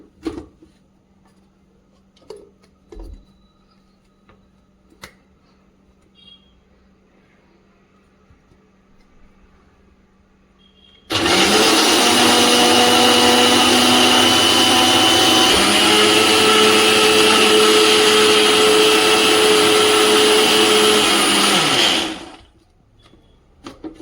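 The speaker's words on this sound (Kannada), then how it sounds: "ಈಗ ಇದನ್ನ ಚೆನ್ನಾಗಿ ರುಬ್ಕೋಬೇಕು ಮಿಕ್ಸಿಯ ಸಹಾಯದಿಂದ" A mixer grinder grinding soaked urad dal and fenugreek seeds with water kicks in after quiet kitchen clatter, a loud steady whirring drone for about ten seconds before winding down to a stop.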